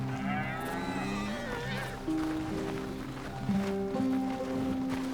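Cattle low repeatedly in the video game Red Dead Redemption II, several drawn-out moos from more than one animal, close and fairly loud, with a voice talking among them.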